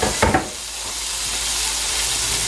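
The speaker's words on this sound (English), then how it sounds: "I'm just going to stir that around for just a few" Frozen peas and minced garlic hit a hot frying pan with bacon drippings, sending up a loud, steady hiss of steam and sizzle after a couple of brief clatters at the start.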